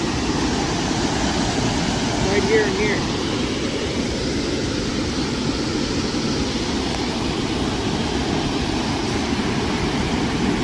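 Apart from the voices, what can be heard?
loud rushing water from a water drain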